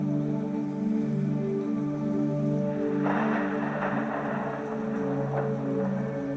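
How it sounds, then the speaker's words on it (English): Steady heavy rain pours down over a stormy mountain, a broad hiss thickening partway through, with a low rumbling undertone that may be distant thunder; no voices. "The rain pours down and lightning slashes the leaden sky."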